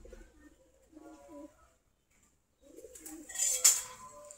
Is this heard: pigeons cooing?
yes